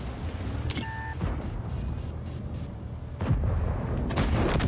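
A tank cannon firing in the World of Tanks game from the Chinese 113 heavy tank, a loud booming shot with a mechanical reload clatter and engine rumble, with no voice over it.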